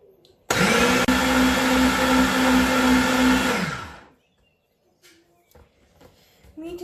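An electric grinder whirs loudly at a steady pitch for about three and a half seconds while blending chopped meat with coriander leaves, then winds down into quiet kitchen clatter.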